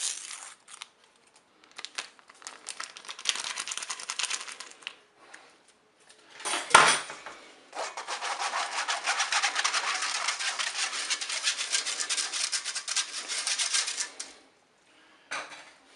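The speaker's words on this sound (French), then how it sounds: "Je vais poser un tamis sur mon récipient et je vais ajouter la farine et la levure chimique." Flour and baking powder sifted through a metal sieve into a bowl, heard as a dry, steady rasping shake that runs for several seconds in bursts, close-up, with a single knock in between.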